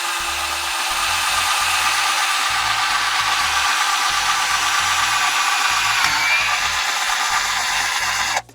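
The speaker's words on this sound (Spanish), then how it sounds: "Solo hay que mantener firme el taladro para que no se vaya de lado." A budget electric drill bores a hole in thin sheet metal, its motor holding a steady, loud whine with faint rhythmic grinding underneath before cutting off abruptly at the end.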